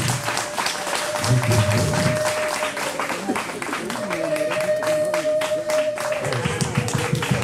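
Guests at a Rwandan wedding applaud in steady, continuous clapping, with people talking over it and a sustained tone running underneath.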